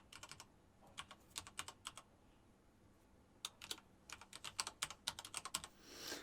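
Someone types an administration email on a computer keyboard in quick bursts of close, crisp key clicks separated by short pauses, with no talking.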